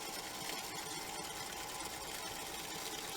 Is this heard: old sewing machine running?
yes